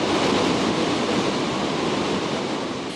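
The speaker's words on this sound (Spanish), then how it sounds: "Escuchar el sonido del agua, ver la fuerza que con las horas toma su paso por el vertedero" River water rushing over a hydroelectric dam spillway on the Cauca River, a dense, steady, loud roar that fills the clip on its own and eases off slightly toward the end.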